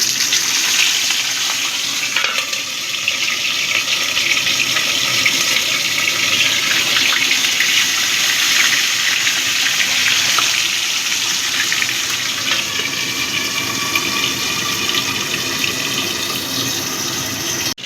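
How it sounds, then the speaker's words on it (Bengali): Katla fish pieces fry in hot mustard oil with a loud, dense, continuous sizzle that holds steady and close throughout, and no one speaks. "এবার আমি মাছগুলো ভেজে নেব"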